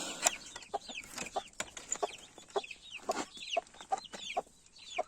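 Young chicks and chickens in a hot, humid Çanakkale coop cheep in rapid high peeps mixed with short clucks, a busy overlapping chorus near the listener with no voices.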